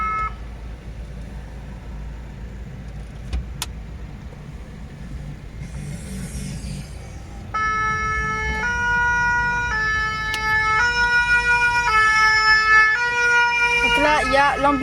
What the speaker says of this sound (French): Donc là, il y a l'ambulance.